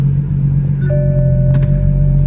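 Engine of a BMW F22 M235i RWD idling, a loud, steady low rumble with a faint rising whine and a brief click partway through.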